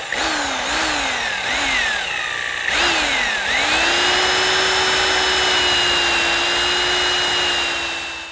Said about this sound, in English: I'm going to drill a 5/8 hole from each side